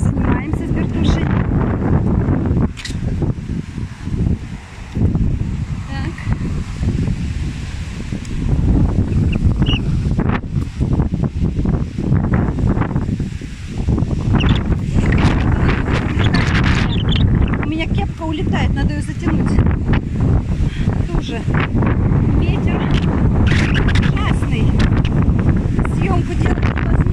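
Strong outdoor wind gusts buffet the microphone on a walk before rain, a loud continuous roar with rushing surges, while someone talks intermittently over it.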